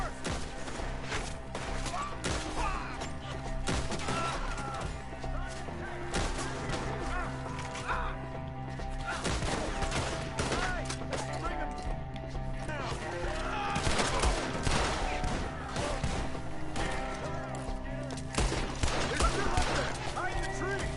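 Red Dead Redemption 2 gameplay with scattered shots ringing out under a continuous mix of shouting voices, hoofbeats and game music, the gunfire steady but moderately loud rather than dominant.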